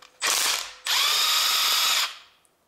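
A ratchet spins a 10 mm socket on long engine bolts of a 1.8-litre Honda Civic during camshaft disassembly, giving two loud, close buzzing bursts of rapid clicking, a brief one followed by a longer run.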